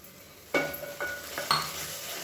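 Yogurt going into sizzling kuska masala in a pan, with a few distinct stirring scrapes and splashy bursts over a steady close frying hiss.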